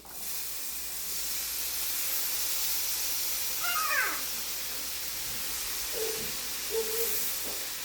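Noodles fry in a pan with a steady, hissing sizzle that runs throughout at moderate loudness, plus a few brief higher squeaky sounds partway through.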